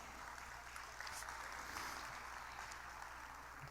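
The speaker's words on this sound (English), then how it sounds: "Could we give him a big round of applause" A conference audience at an agribusiness panel forum applauds a speaker with a steady, even wash of clapping that holds throughout, fairly soft and distant with no voices standing out.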